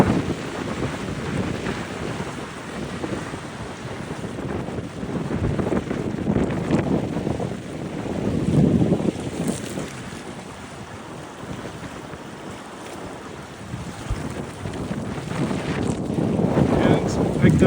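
Strong wind buffets a cruising sailing yacht off Guadeloupe in the Caribbean, a steady rumbling roar of gusts against the microphone with water and waves beneath, swelling and easing throughout.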